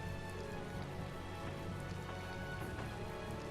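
Steady rain falls continuously in a Tales of Vesperia scene, a dense even patter on surfaces at constant loudness with no talking.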